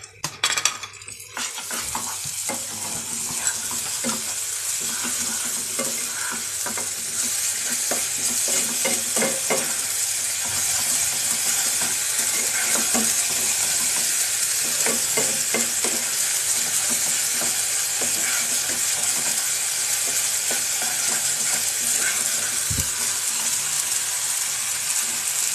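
Food frying in a pan on a home stove, stirred steadily, gives a close, continuous sizzle with scraping and clinking from the spoon that runs throughout without talk.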